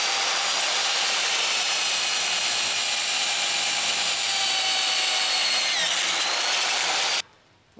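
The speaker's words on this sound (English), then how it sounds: "I just have to drill through here." A power drill bores through a metal jig with a loud, continuous, high-pitched grinding whine. The sound stops abruptly near the end.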